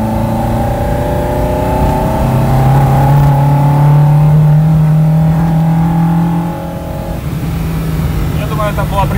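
After new carburetors are fitted to a Lada, its engine idles, then climbs to a held, higher-pitched rev before dropping back, loud and close, with someone talking over part of it.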